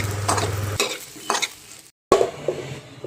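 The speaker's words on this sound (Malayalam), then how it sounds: "2 ടേബിൾ സ്പൂൺ വെളിച്ചെണ്ണ ഒഴിച്ച് ഈ കഷ്ണങ്ങളൊന്ന് വഴറ്റിയെടുക്കുകയാണ്." Potato, plantain and drumstick pieces sautéing in two tablespoons of coconut oil, with close stirring scrapes and spoon clatters over a bright sizzle, broken by a brief silent gap before the frying resumes.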